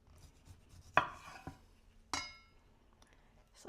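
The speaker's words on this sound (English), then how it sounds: "Slice off the end so I can get some of the juice out of there." A knife cuts through an orange on a board, giving a sharp chop near the one-second mark, a lighter knock just after, and a second crisp cut about a second later, all close up with quiet gaps between.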